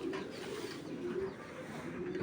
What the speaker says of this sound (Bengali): এই যে অরিজিনাল ক্লাবের কবুতর